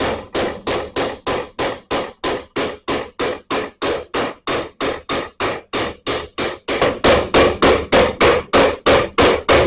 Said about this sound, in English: I'm going to go ahead and hammer her out right now.